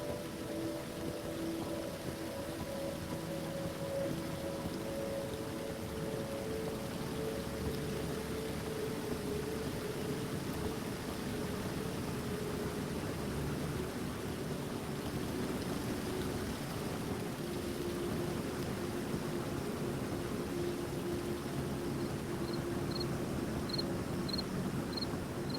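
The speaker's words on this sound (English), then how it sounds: "the sound of the waterfall is pretty damn loud for me" A waterfall in a VR quest game gives a continuous, even rushing roar throughout, with a low hum underneath and a few faint tonal blips near the end.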